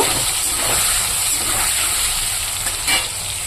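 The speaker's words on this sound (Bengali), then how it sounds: "পনিরটা আমি হালকা করে ভেজে নেব" Paneer pieces frying lightly in hot oil in a pan, a continuous bright sizzle and hiss with small crackling bursts, close and fairly loud, no voices.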